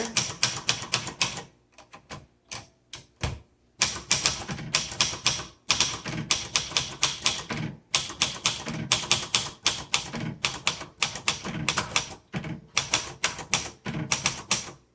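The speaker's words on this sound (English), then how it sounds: "I'm going to have to adjust and type with a lighter feel to get it to look better" Keys clack steadily on a 1963 Royal Royalite manual typewriter, a close, crisp run of strikes in quick bursts with brief pauses between them.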